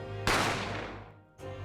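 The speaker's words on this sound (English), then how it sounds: "I didn't have time to think about where the sound of the gunshot had come from" A single loud gunshot fires in The Great Ace Attorney and rings out in a long, slowly fading reverberant tail over a low steady musical hum, with a fresh swell of background music returning near the end.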